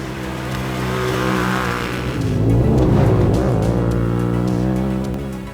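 A 2023 Honda Talon 1000R4 UTV on GBC Dirt Commander 2.0 tires drives a dirt course, its engine loud and close with a steady drone that swells and shifts pitch as it revs, with brief scrubbing and skidding noise from the tires.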